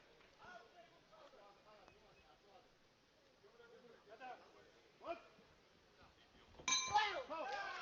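A ringing metallic clang of the boxing round bell sounds near the end, loud and brief, ending a round at the men's world boxing championship final, after a stretch of commentary and crowd murmur.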